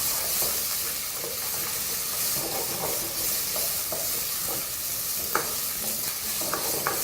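Pork loin browns in a pot with a constant, dense sizzle and hiss. Light, occasional clicks and scrapes of stirring sit on top of it, and there is no talk.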